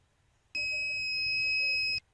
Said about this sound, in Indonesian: Dia akan berbunyi, berarti itu tandanya proses mencetaknya berhasil atau sudah selesai.